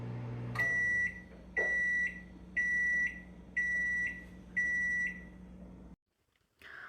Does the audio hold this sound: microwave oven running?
yes